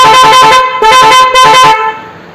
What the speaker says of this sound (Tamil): இப்போ நம்ம கம்பெனி ஹார்ன் எக்ஸ்ட்ரா ஹார்ன் அடிக்குது